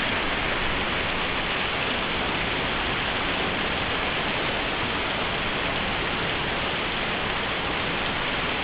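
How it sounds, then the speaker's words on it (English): Steady, dense rain hisses continuously in a rainforest, a constant wash of falling drops with no voices. "It's actually raining on us."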